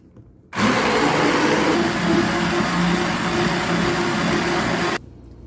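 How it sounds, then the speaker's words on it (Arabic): A hand blender whirs loudly and steadily for several seconds whisking cheese sauce, starting abruptly and cutting off just as suddenly, leaving quiet background. "بخفق بالخلاط أو هاند بلندر، خلاط العمود، أو محضرة الطعام"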